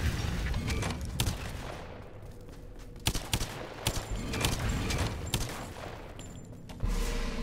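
Gunfire in Lara Croft: Temple of Osiris, a dense run of sharp shots and bursts with several loud distinct cracks standing out over a rumbling low background, steady and close.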